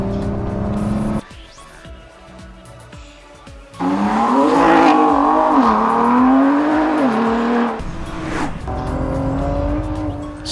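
A Ford GT race car, driven by a Le Mans driver, laps fast with a loud engine roar that climbs through the gears, briefly drops off, then surges again under hard acceleration, close and continuous.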